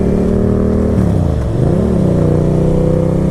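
A Suzuki 600 track motorcycle engine runs loud and close, holding a steady rev with a brief dip and rise in pitch midway.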